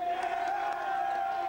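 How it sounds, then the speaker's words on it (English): A team of players in a school gym cheers and chants a player's name as he walks in, a loud, sustained crowd roar with voices held on one pitch throughout. "They cheer my name on as I enter the gym."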